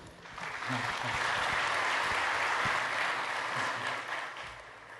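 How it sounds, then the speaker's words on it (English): Applause from a security conference audience greeting a speaker about email spam and malware filters: a steady, dense wash of many hands clapping for about five seconds, rising quickly and tapering slightly at the end. "So please, round of applause for Sebastian."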